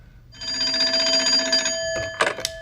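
A telephone bell rings in a steady electronic trill for over a second, then gives a short pair of sharper bursts, clear and close with no talking.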